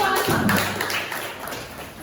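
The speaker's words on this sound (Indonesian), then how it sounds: "Beri tepuk tangan untuk kelompok 2." A classroom bursts into applause for group 2, a short patter of many hands clapping close by, with voices mixed in as it fades.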